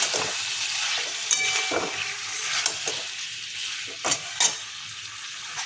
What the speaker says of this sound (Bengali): আলুটা দিয়ে একটু কষে নেবে